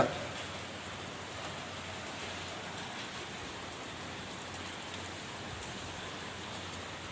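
Heavy rain falls in Kakkanad, Ernakulam, a steady even hiss of downpour with no breaks, moderately loud and alone throughout.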